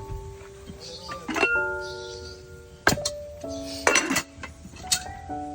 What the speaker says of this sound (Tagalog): Titingnan ko lang kung may laman ng kaldero natin